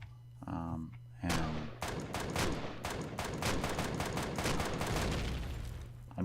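Pistol gunfire in the E.G.S. multiplayer game comes as a rapid series of sharp, loud shots in an uneven rhythm, following a brief stretch of talk and low hum.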